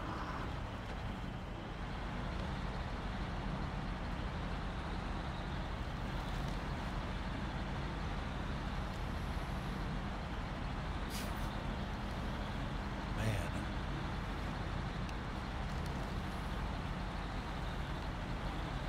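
A heavy truck's engine drones loud and steady as it climbs through mud in the Snowrunner off-road driving game, a dense continuous rumble throughout with a couple of brief sharper sounds near the end.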